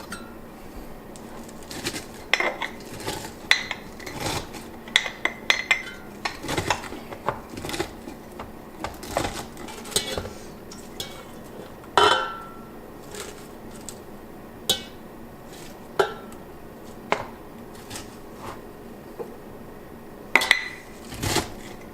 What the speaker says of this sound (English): we're going to go ahead and crush it down using this wine bottle